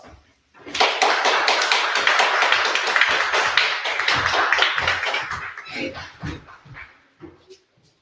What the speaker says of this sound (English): please stand to your feet and give him a round of applause.